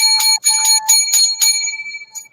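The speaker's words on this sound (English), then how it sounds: "But anyway, 7 lucky bells" Bright metallic bells ring in a quick series of about six strikes, then the tone rings on and fades away.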